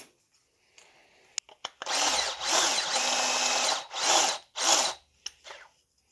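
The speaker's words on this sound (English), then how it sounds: "Nice with the step bits, it actually puts a little chamfer on there too, so you can go from both sides" Step drill bit boring holes in a kid's snowmobile, the power drill whirring in several loud bursts of one to two seconds each, with brief pauses and small handling clicks between them.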